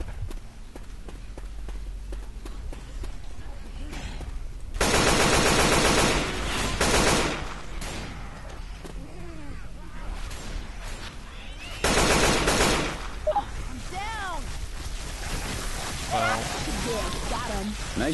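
Two loud bursts of rapid gunfire in the zombie shooter Left 4 Dead 2, separated by quieter stretches in which people talk.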